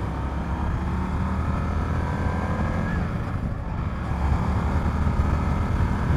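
A 2020 Indian FTR 1200 Rally motorcycle engine rumbles steadily during a demo-day test ride, a continuous low drone under wind with a slight rise in loudness toward the end.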